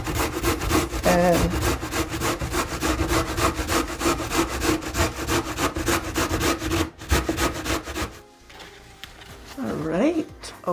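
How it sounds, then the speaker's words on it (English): Beets grated by hand on a grater make a loud, rapid rasping scrape in quick regular strokes, close up, running for about eight seconds before fading, with a voice speaking briefly near the end. "once again I am going to be using this side of the grater to grate my beets."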